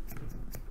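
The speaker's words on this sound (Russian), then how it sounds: "Ножницы в руке тяжеленькие. Слышите, как они звучат?" Heavy sewing scissors with wide rubberized handles snip a few times, giving short metallic cuts close up at a steady rhythm, with no voice.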